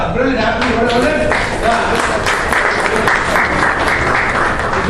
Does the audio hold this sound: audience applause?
yes